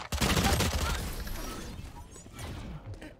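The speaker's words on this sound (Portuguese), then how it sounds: "Ele vai atirar na parede" Gunfire in the tactical shooter Valorant, a dense burst of rapid shots at the start that thins into scattered, quieter hits and clatter over a few seconds.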